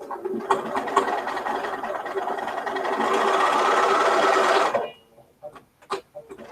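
A sewing machine stitches a quilt over double seams with a fast, steady mechanical whirr that speeds up before stopping abruptly, followed by a few light clicks and handling sounds.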